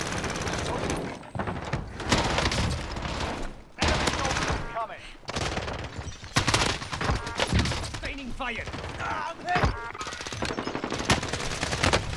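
Rapid bursts of automatic gunfire from an EM2 rifle and TEC-9 in a Warzone match, loud dense volleys broken by brief pauses, with game effects and voices mixed in.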